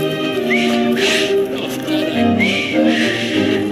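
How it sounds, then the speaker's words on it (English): A character whistles in the video game Assassin's Creed Syndicate: a couple of short, rising whistled notes that sit over a continuous bed of game music and ambience. "I've just learned to whistle"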